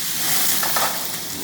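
Vegetables frying in hot oil in a pan, a steady close sizzling hiss that swells briefly with stirring, with no talking.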